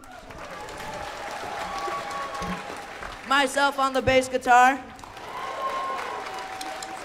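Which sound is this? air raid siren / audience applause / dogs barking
audience applause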